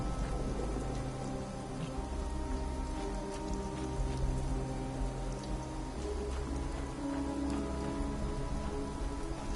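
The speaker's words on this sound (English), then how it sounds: "It's raining in the game, but it's also raining outside where I'm at." Steady rain falls both in a Fallout 76 game world and on a real outdoor surface, a constant dense hiss with soft drop patter and a low rumble underneath, continuous and fairly loud throughout without any voices.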